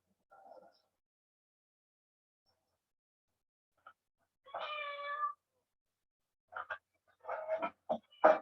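A cat meowing in a run of short, distinct calls separated by silent gaps, one drawn-out tonal meow and then several quicker meows, close and clear with no talk.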